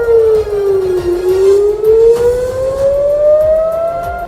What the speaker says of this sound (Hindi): रात को हवाई हमलों की चीख चीख कर चेतावनी देते सायरन लोगों को भुतहा आवाज की तरह डराते सुनाई दिए